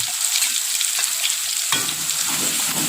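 Blended spice paste hits hot vegetable oil and fries with a loud, steady sizzle, with an occasional scrape of stirring partway through and no talk.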